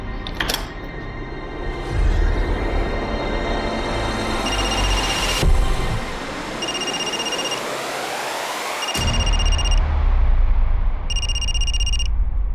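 A mobile phone rings in a TV crime drama, its repeated high electronic ring bursts sounding over loud, dramatic background swells and whooshes.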